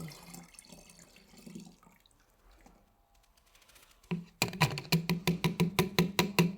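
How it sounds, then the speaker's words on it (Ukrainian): Water is poured and sloshed into a garden spray mixture: a soft, irregular trickle and rustle at first, then a louder run of rapid rhythmic splashing and clunking, as if the container is being shaken, close by. "сюди ще долю водички, взбовтну і щоб усе ж, щоб не пропало. Так, доливаємо."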